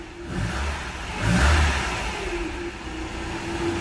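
A Mercedes engine with KE-Jetronic fuel injection runs nearby, its low rumble briefly rising in a short rev before settling back to a steady idle.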